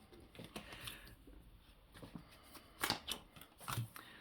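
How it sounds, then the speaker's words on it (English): Stiff tarot cards being shuffled in quick, scratchy riffles, close up, with louder flicks near the end and no talking. "These cards are so hard to shuffle normally."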